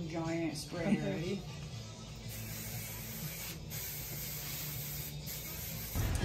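A long continuous hiss of an aerosol spray runs for several seconds, close by, following a short burst of talking at the start.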